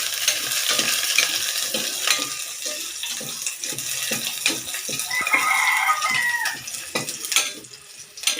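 Alugbati greens and sardines are stirred in a pan, with a soft, continuous sizzle and rhythmic scraping strokes close by. A rooster crows faintly in the background.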